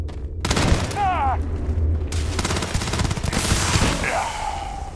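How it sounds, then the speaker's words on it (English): The Grendel gun in the Starfield video game firing explosive rounds, loud close bursts of rapid automatic shots with booming impacts, broken by brief pauses and a voice speaking over the shooting. "Randomly switches to explosive rounds."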